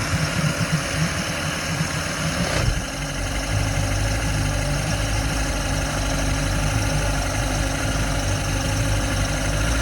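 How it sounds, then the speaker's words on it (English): A 90 HP outboard boat motor idling slightly fast while still cold after an engine swap, a loud, steady close-up drone with a brief shift partway through and no talk. "we got it running, still a little fast, but the motor's a little cold. So we're gonna see if it'll go in gear and idle out."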